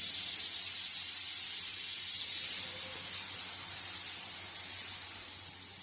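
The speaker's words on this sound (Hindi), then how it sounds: "तो यहाँ पे मैं दाल को कर रही हूँ फ्राई" Dal (lentils) frying in a pan, a steady loud sizzle and hiss that runs throughout, swelling and easing slightly, with no voices.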